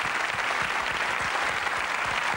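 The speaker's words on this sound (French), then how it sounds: "on va vous applaudir" Studio audience applause on a French television show. A steady, dense wash of clapping from many hands runs unbroken for a couple of seconds with no talk over it.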